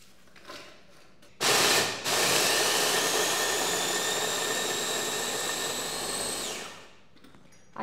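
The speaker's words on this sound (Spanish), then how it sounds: "Vamos a agregar aquí las galletas y también las vamos a procesar." A food processor grinds cookies into a fine powder, starting with a short loud burst, then running as a steady, loud, high whirring roar for several seconds before cutting off. No one speaks.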